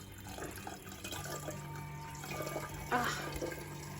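Water poured from a container onto a wilting potted flower indoors, a soft continuous splashing and trickle at close range that grows briefly louder near the end, with no voices.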